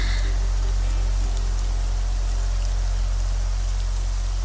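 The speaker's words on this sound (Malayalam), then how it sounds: "മഴയുടെ ഈ ആർത്തിരമ്പൽ എനിക്കെപ്പോഴും ഇഷ്ടമാണ്" Heavy rain pours down at night in a steady, dense, loud roar that never lets up, with no voices over it.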